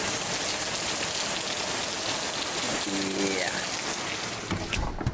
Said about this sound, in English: It's just been days and days of this just pummeling rain.